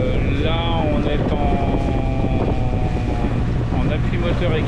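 Engine drone with rushing wind and water as a sailboat motors through waves at sea between Porquerolles and Corsica, loud and continuous, with faint voices underneath.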